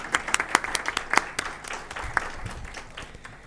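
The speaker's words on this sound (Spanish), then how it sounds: "Un aplauso." Audience applause at a technical talk on heritage building structures, a dense, steady burst of many hands clapping that slowly thins and softens toward the end.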